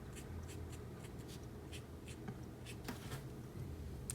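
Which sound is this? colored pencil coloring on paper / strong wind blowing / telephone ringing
colored pencil coloring on paper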